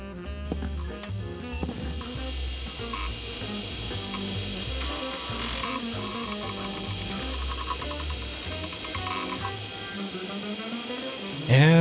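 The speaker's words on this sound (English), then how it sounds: "The drive just decided it couldn't care less and shut down." An old Seagate ST3144A hard drive whirs and clicks with a rough mechanical chatter and steady spinning hum, close up, before it shuts down.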